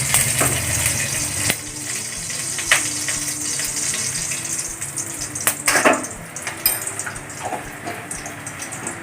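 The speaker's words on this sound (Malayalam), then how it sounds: "നമ്മുടെ പാത്രം ചൂടായിട്ട് ഇനി നമുക്ക് ഇതിലേക്ക് നെയ്യ് ഇട്ട് കൊടുക്കാം" Two spoons of ghee go into a heated pan for fried rice. A steady sizzling hiss runs throughout, with occasional sharp metallic clinks of a spoon against the pan.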